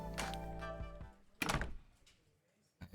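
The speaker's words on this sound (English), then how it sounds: "I slip out the door." A door in the video game Boyfriend Dungeon thunks shut with one solid knock, followed by a fading scrape and a soft tap, over quiet game music.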